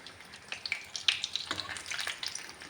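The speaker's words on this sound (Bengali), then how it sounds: "আর এক পিঠ ভেজে নেব।" Egg and paneer frying in a pan after being turned onto the second side sizzle softly, with small spits and crackles popping irregularly above a low hiss.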